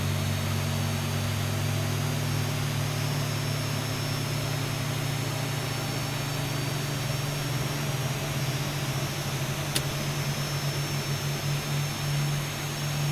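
Steady, loud whine and roar of a Boeing 737's second engine spooling up on the ground in X-Plane 12, a constant jet drone with a faint high tone and no voices.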